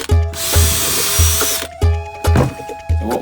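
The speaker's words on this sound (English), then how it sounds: "So what we're going to do is drill a couple of holes." A power drill bores holes in wood for a step cubby stool, its high whine coming in several short, close bursts separated by brief pauses.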